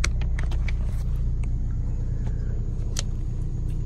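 A car driven by a learner driver rumbles steadily from inside the cabin, a constant low engine and road drone with small clicks and knocks over it.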